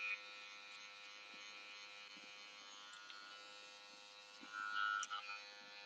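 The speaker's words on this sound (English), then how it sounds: "With my zero gap trimmer." A zero gap hair trimmer buzzes steadily during a haircut, a close, even electric hum with a brief louder flutter near the end where the blades meet hair, no voices.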